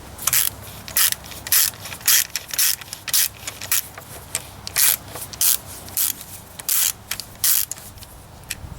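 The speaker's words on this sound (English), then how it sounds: "So then I just take my ratchet, get that guy down in there." Ratchet clicking in repeated bursts while tightening a spark plug on a 2003 Dodge Dakota 4.7 L V8, sharp close ratcheting strokes with short pauses, no talk.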